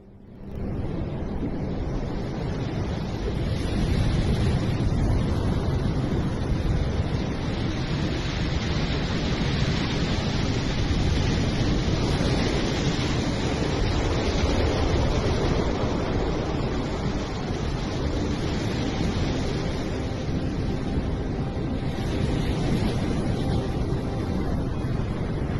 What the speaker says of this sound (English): Surfer barely saved from gigantic waves in Nazaré, Portugal.